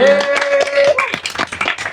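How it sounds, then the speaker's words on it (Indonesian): A small gathered audience claps hands together at the close of a discussion session, a few sharp separate claps heard over a prominent voice and some background tones. "Kita tepuk tangan untuk kita semua."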